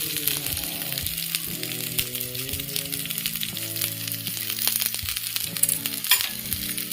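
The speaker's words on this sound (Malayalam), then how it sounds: "നന്നായിട്ടൊന്ന് വഴറ്റിയെടുക്കണം." Shallots, garlic and ginger sauté in a hot pan with oil, a steady loud sizzle and crackle punctuated by occasional stirring scrapes, close and continuous.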